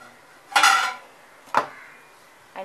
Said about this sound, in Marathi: त्याच्या आतमध्ये मी स्टँड ठेवते.